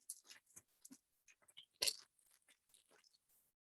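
Object crackled up close to mimic crepitation, like dry leaves crunching: quiet, irregular crisp snaps and rustles with one louder crunch midway, no talking.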